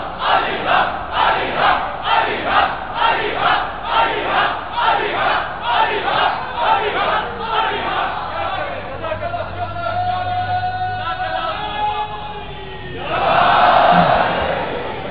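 A large crowd chants a slogan in loud, rhythmic unison, with regular pulsing bursts for about eight seconds. A single sustained voice then leads before the crowd swells again near the end.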